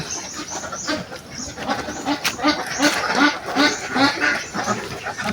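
A flock of ducks on a Philippine duck farm keeps quacking in repeated, overlapping nasal calls at a steady pace, some near and some farther off, over faint background noise.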